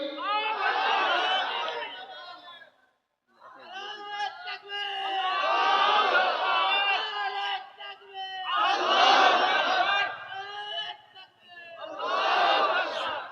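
A large crowd of worshippers at a Bangla religious gathering roars takbir in loud, overlapping bursts, several waves of massed voices separated by brief pauses.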